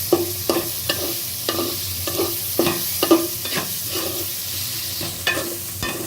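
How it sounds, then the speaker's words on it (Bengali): A spoon repeatedly scrapes and stirs desi chicken curry frying in a pan, with about a dozen close scraping strokes in an uneven rhythm over a constant sizzle, no talking. "এটাকে আমি আবার নাড়া দিব।"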